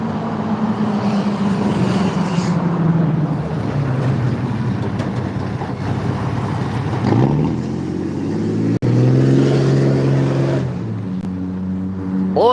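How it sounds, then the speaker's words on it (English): A loud Whitfield County 4-H diesel bus rumbles past outdoors in Dalton, Georgia, its engine drone swelling and shifting as it goes by, with a second heavy roar building near the end; no talk over it. "there goes that Whitfield County 4-H bus."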